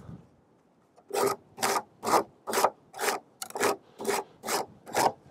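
Stanley Surform rasp shaving wood on a vintage 1980s Williams Joust arcade cabinet, about nine rhythmic rasping strokes in steady succession, close and loud with short pauses between.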